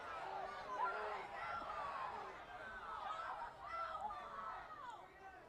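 Crowd in the stands at a night semifinal men's college soccer match between Chapman and Cal Lutheran, a distant murmur of many voices with scattered shouts and chatter rising and falling over a steady background.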